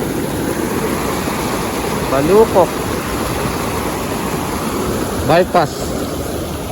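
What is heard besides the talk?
strong rushing river water at fishing spot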